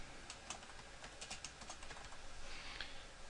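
Quiet typing on a computer keyboard while entering order details, a rapid run of light clicking keystrokes with no speech.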